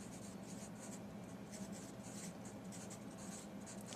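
Faint, steady scratching of a pencil on notebook paper, with continuous soft strokes and light rhythmic scraping over a quiet background, close to the page, no talking.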